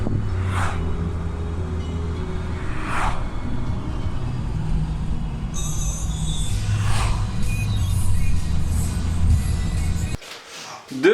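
Cars speed past fast on a road that has to be crossed, several whooshing passes rising and fading one after another over steady traffic rumble, fairly close.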